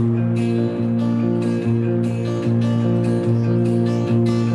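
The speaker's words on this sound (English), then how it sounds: "It somehow sounds like a Travis picking." Fingerpicked acoustic guitar plays a Travis-style pattern, with a steady alternating bass under ringing melody notes, loud and continuous.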